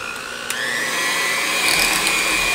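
An electric mixer whirs steadily while blending thick peanut butter brownie batter, close and loud, its motor pitch rising slightly after a small knock at the start.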